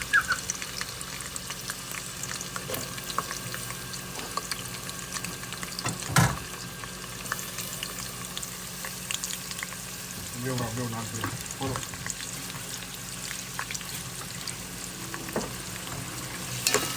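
Chopped onion frying in a pan in a home kitchen, a steady soft sizzle running throughout with occasional stirring clatter and a sharp scrape near the middle, fairly quiet and close.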